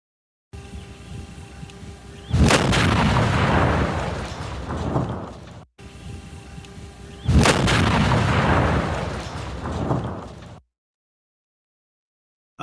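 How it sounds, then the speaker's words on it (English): Two powerful booming blasts a few seconds apart from a pure propane explosion test, each a sharp crack followed by a long rumbling roar that fades out. "For comparison, this is pure propane."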